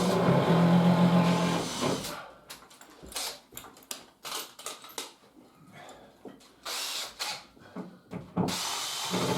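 A power drill drives screws into a wall stud while a mezzanine loft bed frame is installed, giving a sustained motor whine followed by a series of short, loud, uneven drilling bursts close by.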